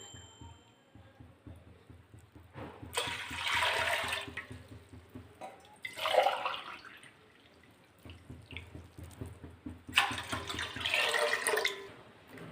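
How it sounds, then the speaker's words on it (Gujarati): Water from a lota pours in three bursts into a large pot for boiling khichu for papad, each splashing pour loud and close, separated by quieter gaps with a low background hum. "હું અત્યારે 3 લોટા પાણી એડ કરીશ।"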